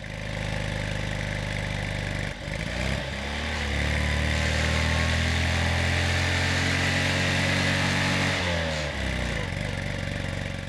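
An NSU car engine idles with a steady low rumble, briefly dips around the two-second mark, then revs a little higher and holds before easing off near the end.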